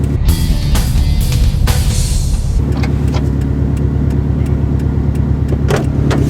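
A car engine idles loudly at close range, gives a short rev early on, then settles into a steady, throbbing idle with a few faint clicks, and no one speaks.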